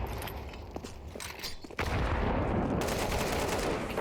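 Shotgun fire crackles through a competitive tournament video game match, dense overlapping blasts and rattling gunfire that thicken into a loud, continuous barrage after a brief quieter opening.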